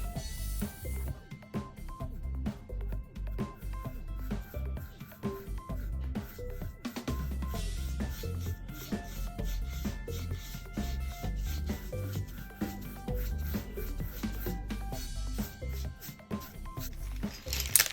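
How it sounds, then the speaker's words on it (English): A brush spreads black Waverly chalk paint over a square craft piece, making soft, repeated scratchy rubbing strokes at close range, with irregular rhythm and faint background noise. "I'm just gonna paint that whole square piece black."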